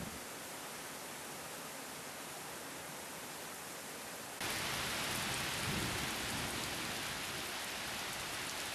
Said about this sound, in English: Springs above the cliffs constantly drip into Watkins Glen, making it seem that it is always raining.